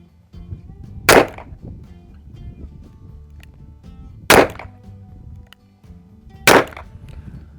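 Three separate handgun shots fired single action at a target, spaced a couple of seconds apart, each a sharp, loud crack with a short ringing tail over a low outdoor background rumble.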